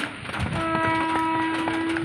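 A train pulls into a station platform in the rain, its long steady horn tone sounding loud and close over rumbling wheels and rhythmic clatter.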